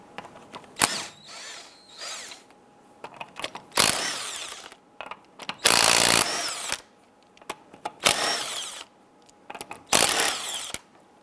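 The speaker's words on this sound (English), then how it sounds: "we're going to loosen and remove the lug nuts." A power tool with a 19mm socket loosens lug nuts on a 1995-2001 Ford Explorer wheel, in repeated loud bursts of whirring and rattling impact separated by short quiet gaps, close by with no talk.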